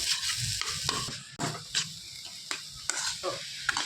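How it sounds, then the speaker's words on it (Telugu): A coconut laddu mixture with ghee is stirred continuously in a pan, giving soft sizzling and repeated scraping strokes of a spoon, fairly quiet and without speech. "కంటిన్యూగా కలుపుతూనే ఉండాలి."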